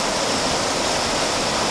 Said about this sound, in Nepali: पानी मजाले बगिरहेको छ आफ्नै तरिकाले